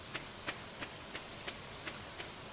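Warm rain falls in the Stardew Valley video game as a steady, soft wash of hiss. Light ticks repeat at an even pace roughly every third of a second, and no voices are heard.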